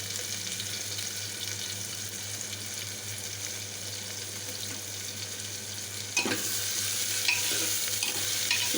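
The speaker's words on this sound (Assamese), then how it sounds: "পিঁয়াজখিনি দিয়াৰ পিছত আমি নহৰু আৰু আদা থেতেলিয়াই থৈছিলোঁ যে এইখিনিও দি দিছোঁ" Chopped onion with crushed garlic and ginger frying and being stirred in a pan for an Assamese chana dal and bottle gourd curry, a steady close sizzle with a few louder scraping stirs toward the end, no talk.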